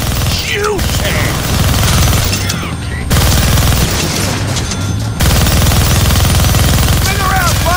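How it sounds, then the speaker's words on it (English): Rapid minigun fire in the Deadpool video game, a dense continuous roar of gunfire loud throughout, with game voices talking over it. "You're gonna need both hands to shoot that minigun."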